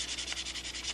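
320 grit sandpaper rubs across the surface of a Spitfire model aircraft in quick back-and-forth strokes, about ten even, close and soft rasping passes within a second, with no talk.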